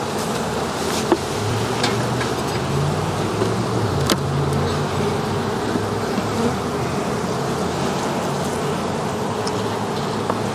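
Honeybees swarm around a beehive and nearby fruit trees, including peaches and plums, in a dense continuous buzz with individual bees droning past close by, louder and softer in turn.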